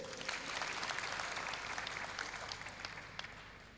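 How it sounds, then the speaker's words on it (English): Steady applause from a convocation lecture audience at the Federal University of Technology Akure, a dense wash of many hands clapping through the hall, fairly distant and gently fading toward the end. "Can we double the applause then?"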